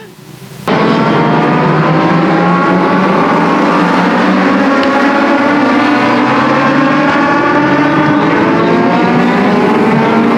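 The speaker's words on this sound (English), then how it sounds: "We've got 1934 to 1937 or 1940 Ford coupes, bubble coupes, and sedans." Vintage 1934 to 1940 Ford coupes, bubble coupes and sedans race at Sauble Speedway, their engines roaring loud and close in a continuous, rising and falling drone that starts abruptly and fills the whole stretch.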